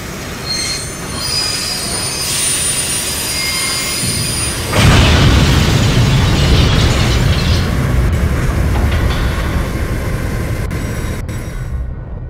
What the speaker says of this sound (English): The engineer slams on the emergency brakes.